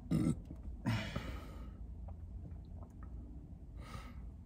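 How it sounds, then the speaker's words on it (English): A man burps loudly twice, a short belch near the start and a longer one about a second later, then a faint exhale toward the end, close to the mic in a quiet room. "He burped."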